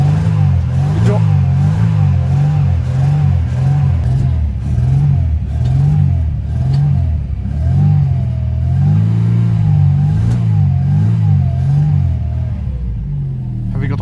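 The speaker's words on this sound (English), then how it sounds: "At least I know the engine is running." A neglected barn-find Mercedes 190E engine runs with a rough, wavering rumble, its revs rising and falling in steady surges throughout, loud and close, with people talking faintly over it.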